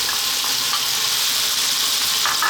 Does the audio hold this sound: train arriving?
no